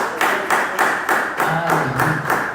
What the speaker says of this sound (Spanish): Denle palmas al Señor, hermano.